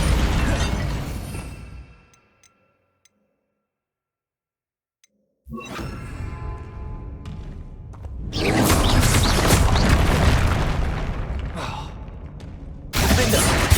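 A fiery burst and whoosh flare up as the Incendio fire spell is cast in Hogwarts Legacy, followed by a few seconds of silence and then loud, roaring magical combat effects with sporadic voices.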